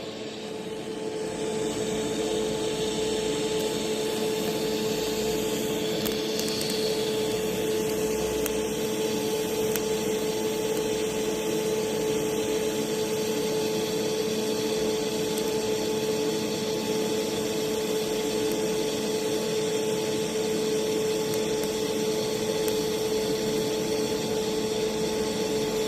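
TIG welding at about 50 amperes gives a continuous, steady hiss and buzz with a fixed tonal hum, loud and close, running unbroken for the whole stretch with no talk.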